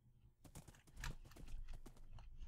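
A Minecraft horse gallops in a steady clip-clop of hoofbeats, fairly quiet and continuous with a faint rustle behind it.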